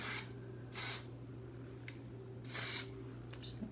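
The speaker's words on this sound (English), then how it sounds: "now I'm gonna spray it again" Hairspray from an aerosol can sprayed onto hair, with short hissing bursts, two brief and two longer, over a faint background hum.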